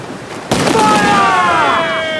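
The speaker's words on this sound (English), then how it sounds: "Ready to fire! Cannon ready!" Ship cannons fire in Assassin's Creed Black Flag: a sudden loud blast breaks the quiet and then rings off into a long, fading, metallic tail.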